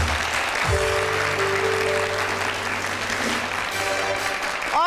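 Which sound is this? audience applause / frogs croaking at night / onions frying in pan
audience applause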